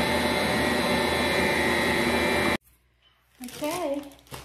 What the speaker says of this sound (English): now we mix this a little while